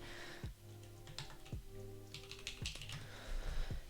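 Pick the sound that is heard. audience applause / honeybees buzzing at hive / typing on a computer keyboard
typing on a computer keyboard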